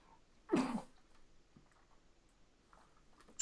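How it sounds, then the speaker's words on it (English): A single harsh cough from a man on a live mixed martial arts and wrestling commentary stream, one short loud burst against quiet background hiss. "That's a bad cough there"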